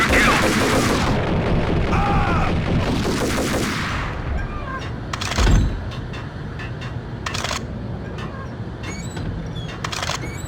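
Gunfire in the Max Payne video game, with dense, loud bursts of shots over a thick action soundtrack early on, then sparser sharp single shots and impacts spaced through the rest.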